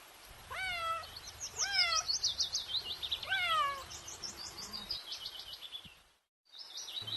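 A cat meows repeatedly, several rising-falling calls in a row, fairly close and clear, with a short silent gap near the end.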